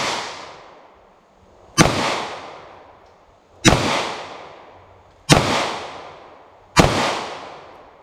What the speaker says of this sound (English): I shoot some 38 Special center mass with this.